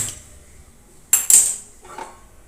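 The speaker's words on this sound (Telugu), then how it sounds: "ఒక ప్యాన్ పెట్టుకున్నాను." A metal pan is set down on a stove with two quick, bright clanks close together, followed by a fainter clink in otherwise quiet surroundings.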